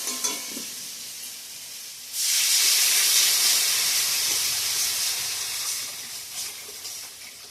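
Water poured into a hot frying pan after spices, including cumin and chilli powder, have been cooked down, bursting into a loud, sustained steaming hiss and sizzle that slowly fades, with some stirring.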